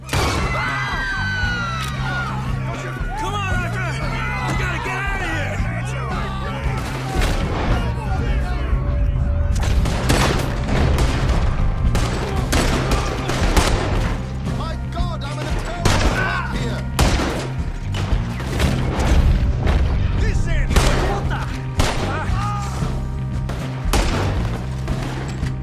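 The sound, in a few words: gunfire shootout in video game Red Dead Redemption 2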